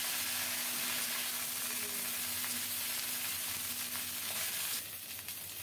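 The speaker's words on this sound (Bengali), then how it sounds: "ভাজা হলে এখন দিয়ে দেব পরিষ্কার করে কেটে ধুয়ে রাখা ফুলকপি।" Cleaned, cut cauliflower sizzling in hot oil with tempered whole spices, a steady close frying hiss with a faint tonal hum, easing slightly near the end.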